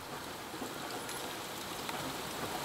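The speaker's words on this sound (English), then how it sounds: "But it sure has been raining a lot." Steady rain falls outside an off-grid property, a soft even hiss of drops on surfaces, faint and continuous with no voices.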